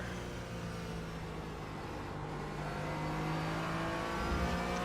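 A Corvette GTE race car passes at an IMSA race at Watkins Glen, giving a steady, loud engine roar that swells slightly toward the end. No one speaks.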